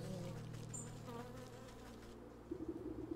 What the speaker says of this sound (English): Tidy hives full of bees, completely devoid of honey.